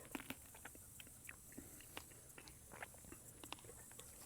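A thin-skinned muscadine grape bitten in half, giving quiet, close, crisp bite and crunch clicks scattered over a few seconds against a faint background hiss.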